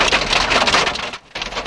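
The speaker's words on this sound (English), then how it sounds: "All these intense sounds are the sounds of hail." Hail pelting a car during a violent Oklahoma tornado storm, a dense and loud drumming rattle with one brief lull, heard from inside the vehicle with no voices.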